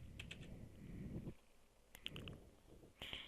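Quiet clicks of typing on a computer keyboard, a few key presses in small bursts with pauses between.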